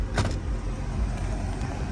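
Power sunroof of a 2013 Jeep Grand Cherokee Laredo with 170,000 miles sliding open, a steady low electric motor hum inside the cabin that holds evenly throughout, with a brief faint click near the start.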